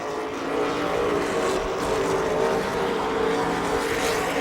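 Super late model race cars roar around a racetrack, a continuous loud engine drone with no voices over it.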